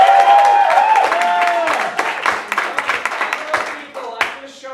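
Audience at a Shakespeare After Dark show breaks into a round of applause and cheering, loud and close at first, then thinning into scattered individual claps, with a voice speaking over it.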